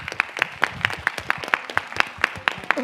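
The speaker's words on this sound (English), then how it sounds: "I would like to clap for João Arraes" Applause at a film screening Q&A for an absent colleague: a sparse, steady run of crisp individual claps at a brisk even rhythm, fairly close and moderately loud, with no talking over it.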